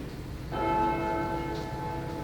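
A single deep church bell strikes and rings on, its metallic hum slowly decaying against a low background murmur.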